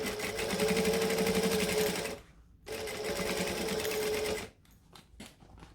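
A sewing machine stitches down the side of a unisex sling bag, running steadily for about two seconds, pausing briefly, running again for nearly two more, then ending in a few short stop-start bursts.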